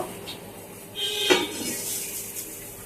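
A metal lid goes onto a cooking pot of raw mango chutney, a single sharp clank of metal on metal with faint kitchen clatter around it.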